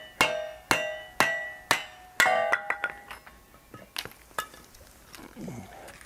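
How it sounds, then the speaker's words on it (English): A 16-ounce claw hammer strikes wood set on a kindling cracker: five loud, ringing metallic blows at a steady pace, then a string of lighter, quicker taps fading out. "This little 16-ounce claw hammer is doing a pretty good job"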